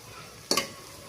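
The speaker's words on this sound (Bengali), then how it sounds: "পেঁয়াজগুলো ভালো করে ভেজে নিচ্ছি।" Onions frying in a pan, with one short stirring scrape in the middle over a faint, steady sizzle.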